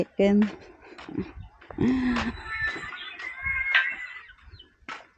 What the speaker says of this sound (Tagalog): Titingnan natin yung ating mga manok-manok.